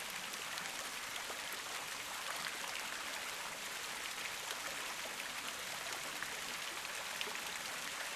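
Flowing water, a steady hiss of streaming and trickling like a brook or light rain, even and continuous at moderate distance with no voices.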